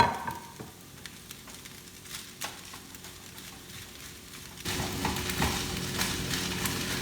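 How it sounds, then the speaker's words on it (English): Cooked broccoli sizzles and fries in a pan as it is stirred into golden fried rice, a steady low crackle that grows louder and busier partway through with scraping stirs. "Now I'm going to go ahead and add in the broccoli that I already cut."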